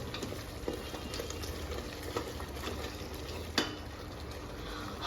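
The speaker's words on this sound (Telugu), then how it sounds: "1 మినిట్ ఫ్రై చేసుకోవాలి" Spices and turmeric powder frying in oil in a pan for tomato bath, a steady low sizzle with occasional stirring scrapes and one sharper clink, moderately faint and continuous.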